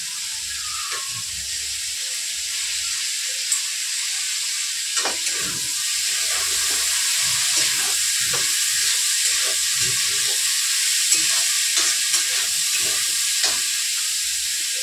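Vegetables and whole green chilies fry in a pan while a spatula stirs them, giving a steady loud sizzle with occasional scraping taps of the spatula against the pan, close and continuous.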